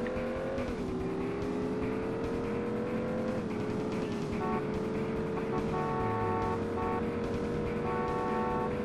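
Car chase in the PS1 game Driver 2: a steady engine drone with shifting pitch as the car accelerates and changes gear, continuous and moderately loud with occasional tire noise, no talk.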